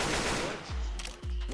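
Gunfire in Left 4 Dead 2 on the Swamp Fever campaign: two heavy, booming shotgun-like blasts about half a second apart, each with a deep low thump, over busy game noise.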